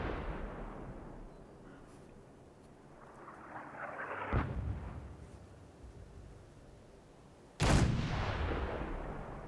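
Artillery fire in the Fallout 4 video game: two heavy booming blasts, the second louder and closer, each followed by a long rumbling decay over a low wash of ambient noise.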